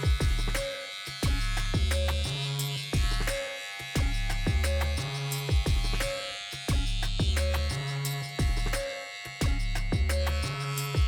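Electric hair clippers with a guard cutting hair during a temp fade, a steady close buzz broken into short rhythmic passes, pulsing on and off about every second.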